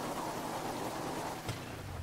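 Rain falling in the video game GTA V Online, a steady hissing patter, fairly soft and continuous, with a brief thump midway.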